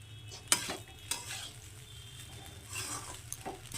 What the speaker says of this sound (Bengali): ঝাঁকিয়ে নিয়েছি তো দেখুন অলমোস্ট তৈরি হয়ে গেছে আমাদের চিকেন এগ ফ্রায়েড রাইস